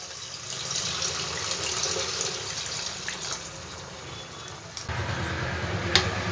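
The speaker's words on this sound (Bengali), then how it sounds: "এবার পরিমাণ মতন জল দিয়ে দেবো।" Water is poured steadily into a cooking pot on a gas stove while preparing a vegetarian ISKCON-style dish, a continuous close splashing stream that changes tone partway through as the pot fills.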